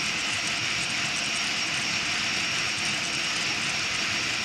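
A cross gantry CNC machine running a spiral rose test gives off a constant, fairly loud, even high whine and rush without a break, and no one talks.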